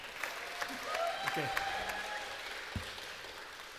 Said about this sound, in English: this is going to take even longer if every single one gets a round of applause